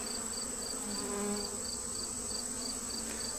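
Honey bees buzz steadily around an open hive with brood, a dense continuous drone close by with no pauses and no talking.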